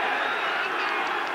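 A large football stadium crowd at the 1999 Texas vs Texas A&M game produces a continuous, loud roar of massed voices with no breaks.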